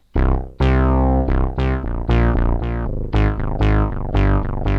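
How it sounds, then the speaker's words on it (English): A deep, buzzy Prophet 5 synthesizer bass plays a rhythmic sequence of sustained notes with sharp attacks, loud and upfront with no other sounds. "let's add another bass, for example Prophet 5 bass"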